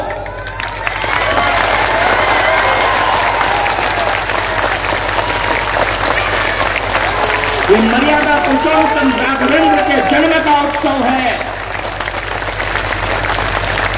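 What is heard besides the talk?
audience applause at a religious gathering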